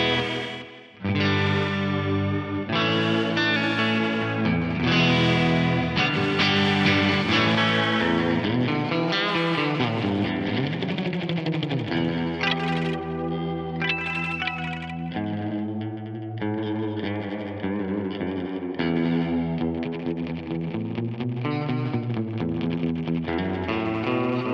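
Electric guitar played through an Axe-Fx III quad tape delay with the feedback raised, sustained distorted notes smearing into chorus-like, repeating echoes that pile up and wash continuously for the whole passage.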